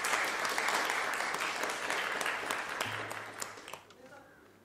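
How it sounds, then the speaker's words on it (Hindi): An audience at an awards ceremony keeps applauding in a thick, steady wash that gradually tapers off, with a low hum and a few scattered claps left near the end. "तालियां थोड़ी और होनी चाहिए।"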